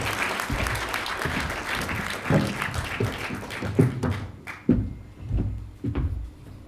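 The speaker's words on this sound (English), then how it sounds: "Can I have a round of applause, please?" An awards ceremony audience applauds in a sustained wash of clapping that thins out into a few scattered claps and thuds as it dies down.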